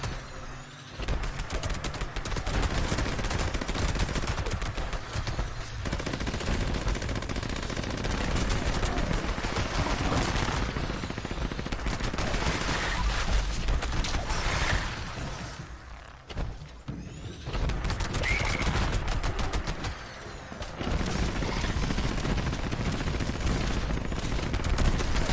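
Sustained rapid gunfire in Fallout 76 aimed at a legendary enemy up in the hills, continuous loud bursts running nearly the whole time with brief pauses around the middle and near the end, no voices.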